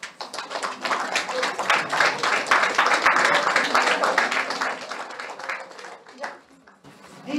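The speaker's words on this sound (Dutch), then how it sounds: "Applaus." Audience at a book presentation applauding, dense broadband clapping held steady for several seconds before thinning out near the end, with voices mixed in.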